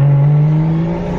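A 750 horsepower drift car revs loudly in a narrow alley at night, a close, sustained engine drone that holds steady and then eases off slightly.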